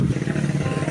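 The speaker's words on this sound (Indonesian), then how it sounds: "Bising lah lu motor." A noisy motorcycle engine runs close by with a dense, steady rumble, loud and unbroken throughout this short moment.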